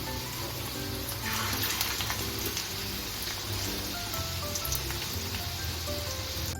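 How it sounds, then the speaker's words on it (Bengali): Chicken tawa kebabs fry in white oil in a nonstick pan over low-to-medium gas, giving a steady, close, rain-like crackle and spatter that continues without a break. "এখন কাবাবগুলো আমি ভেজে নেব দিয়ে দিচ্ছি"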